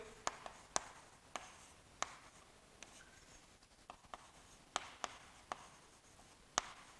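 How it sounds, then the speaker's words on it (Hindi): Chalk writes notes on a classroom board during a biology lesson, giving a series of sharp, separate taps and short strokes, quiet and close with no talking. "एक पॉइंट और हम लिख लेते हैं"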